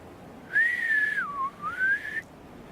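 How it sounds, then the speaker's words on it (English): A single human whistle outdoors at a roadside spot, one clear tone rising, dipping low in the middle, then climbing back up over about two seconds, close and alone against quiet background. "Okay, I'm gonna whistle."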